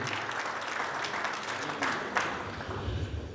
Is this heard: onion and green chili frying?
no